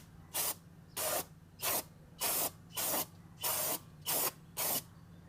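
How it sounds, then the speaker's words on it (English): Eight short, even bursts of aerosol cleaner spray hiss onto front brake parts of a 2014 Nissan Frontier, each about a third of a second, close and loud, with a low steady hum underneath. "I'm gonna spray it off one more time and we'll be ready"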